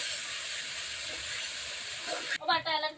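Ginger garlic paste sizzles steadily in a hot pan as it is stirred for a Chinese duck curry, a loud continuous hiss with a few scraping touches near the end.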